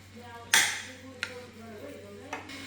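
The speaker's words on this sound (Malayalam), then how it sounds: "നാല് ടേബിൾ സ്പൂൺ മസ്റ്റാർഡ് സോസ് കൊടുക്കുക ഇനി ഇത് നന്നായിട്ട് മിക്സ് ചെയ്യുക" Four tablespoons of mustard sauce for a fish sandwich are stirred in a bowl, giving one sharp clink followed by a couple of lighter taps and scrapes over a quiet background.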